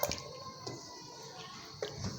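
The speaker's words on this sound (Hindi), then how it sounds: "थोड़ा सा मैं इसमें पानी डालूँगी" Water is poured into chicken korma as it cooks in a pan, giving a few soft splashes and squishy liquid sounds over a low kitchen background, with no speech.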